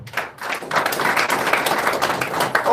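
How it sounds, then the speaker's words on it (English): Audience applause after a political speech at a Nigerian press event, steady dense clapping that swells and holds for a few seconds, fairly loud and close, with no talk over it. "Another round of applause for him."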